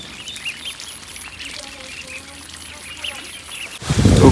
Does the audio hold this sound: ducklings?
yes